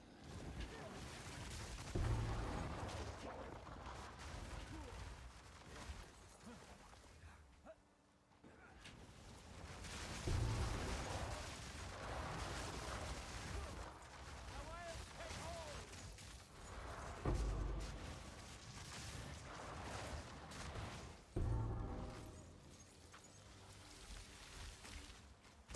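Explosions in the Path of Exile 2 action game burst repeatedly in dense, rumbling clusters over continuous game effects, with a person talking in between.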